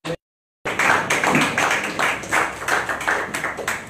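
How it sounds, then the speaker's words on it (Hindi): A brief tap, a short gap of silence, then a church congregation clapping steadily together in a fast rhythmic beat that continues throughout. "प्रभु यीशु मसीह के लिए तालियां देंगे परमेश्वर के नाम में।"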